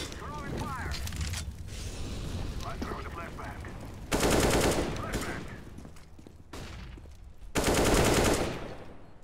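Bursts of gunfire in CS:GO, including a shot through a wall, sounding as loud close volleys separated by quieter stretches with other game noise in between.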